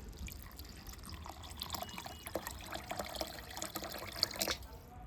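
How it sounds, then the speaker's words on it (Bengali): Water is poured onto two spoonfuls of sugarcane jaggery in a bowl, giving a steady close trickle and splash that runs on for several seconds with small dribbling accents. "এবার আমি এই গুড়ের মধ্যে জল দিয়ে দেব।"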